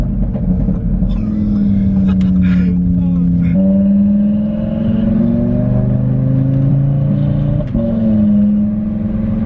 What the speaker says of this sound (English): that 5-cylinder, dude, that is one of the best sounds I've ever heard